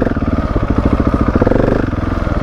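A motorcycle engine revs with a steady pulsing rumble as the clutch is dropped to try a wheelie, loud and close throughout.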